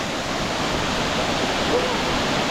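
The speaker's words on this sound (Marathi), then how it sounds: "हा आमचा प्रायव्हेट आहे इथे वॉटरफॉल" Kalu waterfall on a jungle trek pours in a constant, broad rushing hiss of falling water, close and steady throughout with no other sounds standing out.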